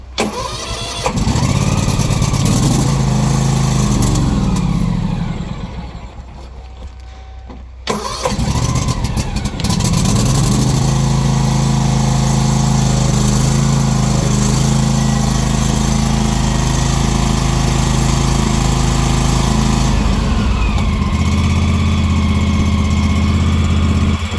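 A Husqvarna TS354 riding mower's engine cranks, stops briefly, then catches and settles into a loud, steady idle close by.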